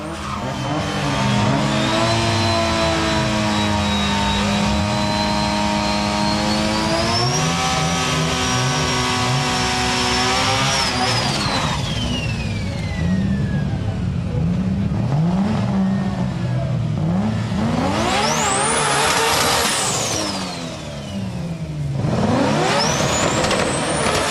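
Nissan Skyline GT-R R32 with an HKS T51R SPL turbo and Nitto NT555R tyres at a drag racing meeting, engine roaring loud and close under hard acceleration with rising and falling pitch, turbo whine sweeping up, and tire squeal near the end.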